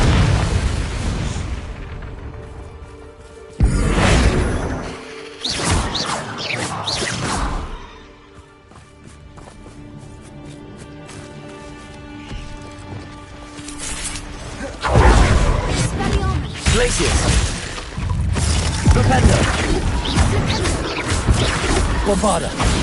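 Several heavy magical blasts from the Confringo fire spell in Hogwarts Legacy boom and crash in bursts, with rumbling impacts and shattering debris, interspersed with quieter stretches and game sounds.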